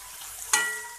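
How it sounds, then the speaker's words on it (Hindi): Coarsely crushed garlic frying in a pan with softened okra makes a faint, brief sizzle, with one quick stirring scrape partway through. "मैं 2 मिनट तक इसे भून लेती हूँ इसमें"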